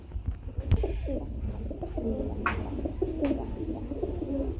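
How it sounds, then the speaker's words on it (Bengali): A pair of large Sirazi pigeons coo at close range, giving several soft, throaty rolling calls in succession over a low background murmur. "খুব সুন্দর আমরা একজোড়া সিরাজি কবুতর দেখতে পাচ্ছি"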